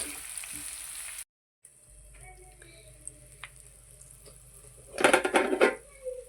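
Onions fry in a pan for capsicum curry with a soft, steady sizzle, joined by a few light utensil clinks, then a louder burst of stirring and scraping near the end, with no talk.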